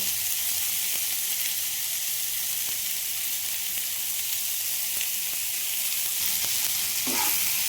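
Chopped radish and potato fry with a steady, loud sizzle as a utensil stirs them now and then, the hiss continuous throughout with a few faint scraping clicks near the end.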